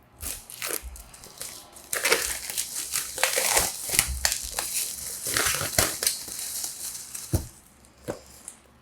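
A book package being opened carefully by hand, its plastic wrapping crinkling and crunching in irregular bursts up close for several seconds, with no one speaking.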